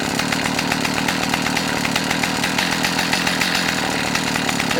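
Stihl 029 Super chainsaw with a 20 inch bar and chain running steadily, a loud, close, constant buzzing engine rasp with no pauses or talking.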